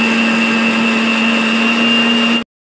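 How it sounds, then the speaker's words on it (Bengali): Kitchen mixer grinder whirring steadily and loud at close range as it grinds a spice paste for a mutton curry, a constant motor drone with a high whine, then stopping abruptly. "আর ওদিকে চলছে মিক্সিতে ডালনা মাটা।"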